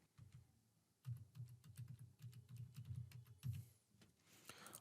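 Rapid keystrokes on a computer keyboard as a 10-digit mobile number is entered, a close, crisp run of clicks in small bursts over about four seconds, followed by a brief rustle.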